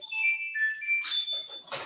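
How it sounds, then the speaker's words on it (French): A mobile phone rings during a protestant church service, a faint electronic melody of tonal beeps sounding alone in the background. "Excusez mon téléphone que vous entendez au fond"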